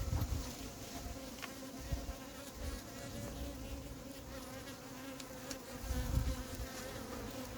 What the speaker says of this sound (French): Voilà un frelon qui se retrouve dans la bouteille verticale sans même avoir capturé une abeille.